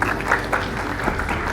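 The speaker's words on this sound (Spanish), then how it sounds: "Un aplauso, por favor." An audience at a health-technology conference on telemedicine and artificial intelligence applauds a newly introduced speaker, giving a short burst of dense, steady clapping throughout.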